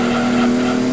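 A race car in Gran Turismo 2 sliding through a four-wheel drift, a loud sustained engine drone with steady tire squeal held throughout.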